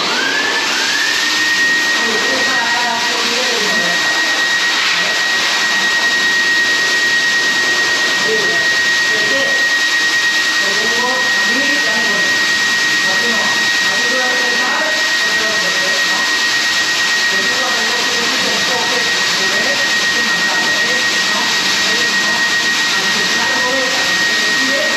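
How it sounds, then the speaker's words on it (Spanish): A dog-grooming hair dryer blows nonstop in a canine grooming salon, a loud, close, steady whine with a high tone. Faint voices talk underneath it. "Si tú agafes y tires el secador,"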